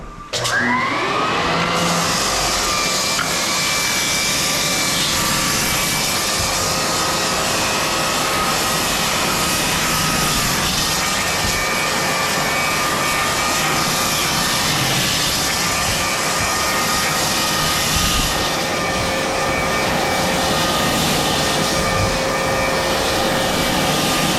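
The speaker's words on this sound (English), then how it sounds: "When we run our edger" Lagler Flip edger floor sanding machine spinning up and running on a wooden floor, a loud, close, sustained motor whine with steady tonal hum and grinding noise, unbroken throughout.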